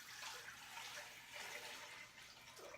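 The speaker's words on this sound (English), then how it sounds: "You want to add the water" Water pours steadily into a pressure canner loaded with jars of spicy black-eyed peas, a continuous broadband rushing that holds at an even level for its whole length.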